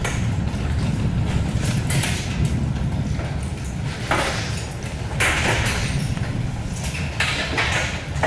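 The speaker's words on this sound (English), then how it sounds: "It sounds like rain or hail outside, but it's actually rocks coming in." Dense, continuous clatter of volcanic rocks pelting a building like heavy hail during an eruption on Fogo Island, with sharper impacts standing out over a steady rough rumble.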